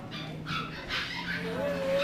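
Small puppies in a mall puppy store yip and whimper nearby, high thin cries rising and falling, with faint background chatter underneath.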